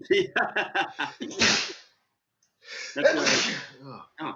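Two loud sneezes from a man on a podcast, each bursting out at the end of a run of talking, separated by a short silence, close to the microphone, with a little speech around them.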